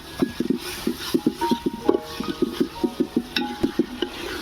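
Onion, ginger and garlic paste sautéed in a pan for a lunch menu, with rhythmic scraping strokes of a spatula over a soft sizzle.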